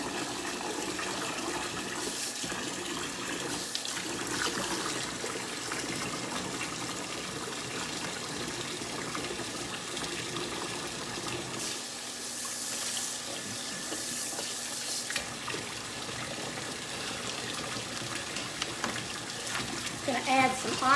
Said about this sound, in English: I'm going to run cold water in there.